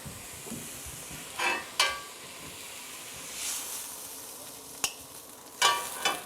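Grilled flank steak for tacos gives a soft, steady hiss with a few sharp crackling bursts as it comes off the grill, nearby and fairly quiet, with no talking.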